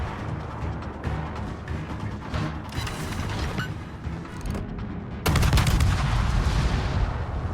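Naval guns fire from a Mogador destroyer in a World of Warships match, a string of heavy booming shots with a loud, close salvo near the end and steady engine and sea rumble underneath.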